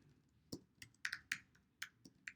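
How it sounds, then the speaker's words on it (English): Someone types on a computer keyboard, giving a quiet, close run of irregular key clicks with short pauses between strokes. "I'm going to type in source, New Jersey"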